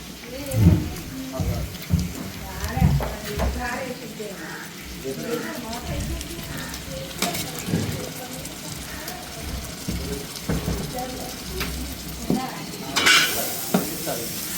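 Ginger garlic paste frying with onions in a pan, a steady sizzle and stirring scrape running throughout, with louder clatters near the start and end, while a person talks over it.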